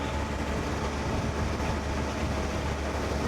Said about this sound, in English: And there we have our first train.